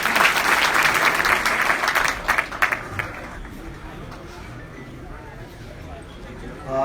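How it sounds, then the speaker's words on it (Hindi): Applause from a crowd at an Indian election rally in Mustafabad, Jasrana, Firozabad, loud and dense for about three seconds, then fading to a few scattered claps and a quiet hall. "जोरदार तालियों से स्वागत है"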